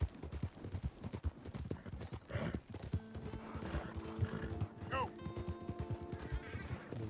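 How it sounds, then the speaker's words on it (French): Horses galloping in the video game Red Dead Redemption 2, with rapid rhythmic hoofbeats and occasional whinnies over game music, while someone talks now and then. "On a de bons chevaux de course."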